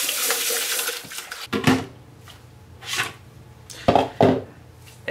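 Water running and splashing while film-developing equipment from a JOBO C41 press kit is rinsed, in bursts of spray with brief clinks of containers, close by and fairly loud, with no talking.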